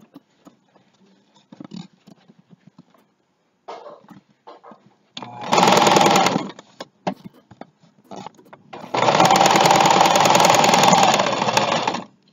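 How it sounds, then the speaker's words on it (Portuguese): A sewing machine stitches bias binding onto the hood of a baby towel in two loud, steady runs, with quiet handling sounds and pauses between them. "vamos passar uma costura aqui, para que dê o acabamento no capuzinho"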